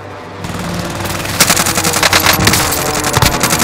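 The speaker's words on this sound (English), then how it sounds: "I want the airstrike here. This is Phoenix 3. Strike inbound." An airstrike lands on a target in Call of Duty Warzone, with loud rapid booms and crackling gunfire-like bursts building after a quieter start and continuing densely to the end.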